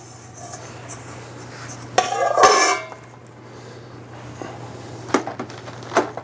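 A hot chocolate sponge cake is unmolded from its pan by gloved hands, with a loud scraping, rattling burst of metal pan handling in the middle and a few sharper clanks later over a steady low hum.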